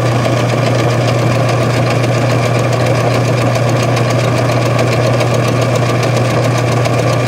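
A small lathe turns a crankshaft under a very light cut, giving a steady continuous mechanical whir with a strong low hum and a rapid rhythmic ticking throughout, loud and close with no talk.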